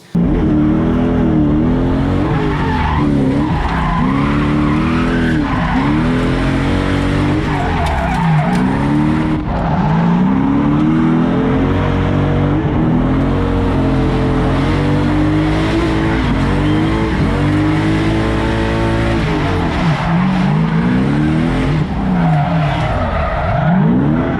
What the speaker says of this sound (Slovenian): vozniki preizkusili na prvem legalnem drift tekmovanju na javni cesti v Sloveniji